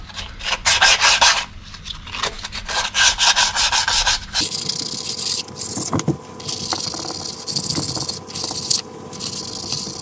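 Brake drums from a Honda MT50 moped are sanded, giving loud rhythmic rasping strokes close by that give way to a rougher, steadier scraping and rubbing with occasional clinks.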